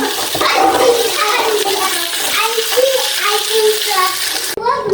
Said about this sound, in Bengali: এদিক দিয়ে কিন্তু মাছগুলো ভেজে নিচ্ছি অল্প অল্প করে